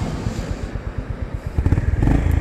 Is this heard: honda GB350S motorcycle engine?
yes